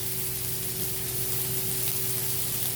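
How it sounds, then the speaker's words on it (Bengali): Onion and garlic frying in oil give a close, continuous sizzle at an even loudness throughout, with no speech. "ওই তেলের মধ্যে আমি দিয়ে দিচ্ছি পেঁয়াজ"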